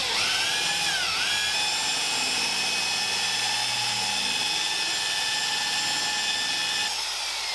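A power polisher whirs steadily and loudly at a high pitch, close up, as Blue Magic metal polish is worked over a body panel of a Caterham Super Seven under restoration, continuing unbroken without talk.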